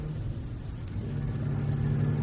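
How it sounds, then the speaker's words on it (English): Motorcycle approaching much too fast in a radio play, a continuous rumbling engine drone that swells steadily louder as it nears, heard alone. "A motorcycle. Much too fast."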